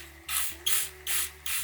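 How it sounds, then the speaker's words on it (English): Four quick hissing sprays of vinegar from a spray bottle onto wet felt, evenly spaced and close by, with a low steady hum underneath. "spray that with vinegar."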